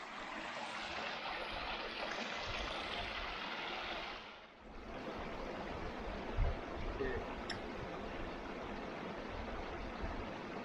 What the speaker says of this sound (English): Look at that lovely waterfall.